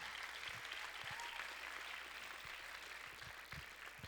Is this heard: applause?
yes